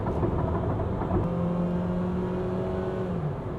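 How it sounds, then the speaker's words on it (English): A 2021 Mitsubishi Xpander MPV with an aluminum engine accelerates with the throttle held flat to the floor, producing a loud, steady engine roar and a rising whine from the gearbox heard from inside the car. "Okay, that's the sound of the gearbox accelerating."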